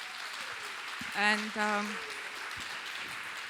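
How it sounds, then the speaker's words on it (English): Applause for panelists at an annual conference, a soft, even patter of clapping running throughout, briefly overlaid by a short spoken word. "let's give a big applause, a round of applause for our panelists"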